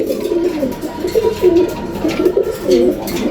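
Domestic pigeons at a market stall, including black beauty, homa, deshi and sirazi breeds, coo steadily in a close, continuous series of low warbling calls with no talk over them.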